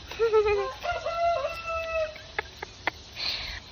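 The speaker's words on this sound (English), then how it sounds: "I just see a bunch of chickens." Chickens clucking and calling nearby, a rooster-like crow at the start followed by several short squawks and clucks.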